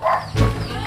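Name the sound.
dog barking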